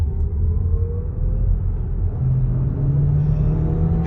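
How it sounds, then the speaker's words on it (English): A Skoda Superb estate plug-in hybrid's petrol engine rumbles steadily and builds as it kicks in under load, a low droning hum that rises slightly in pitch toward the end. "Petrol engine just fired in to give us some help as well."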